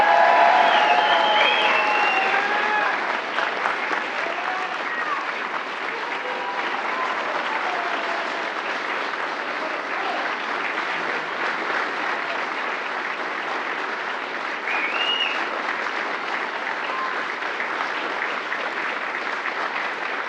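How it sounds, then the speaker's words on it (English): Audience at an ROTC commissioning ceremony applauding newly commissioned second lieutenants, a dense, sustained wash of clapping from a large crowd that stays loud throughout and eases slightly after the first few seconds. "Please give them a round of applause."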